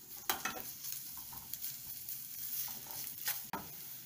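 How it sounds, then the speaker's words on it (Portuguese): Ginger and onion sauté in hot oil in a pan with a soft, steady sizzle and a few spoon scrapes and taps, fairly faint and close. "eu vou colocar aqui agora o gengibre e a cebola para eles refogarem"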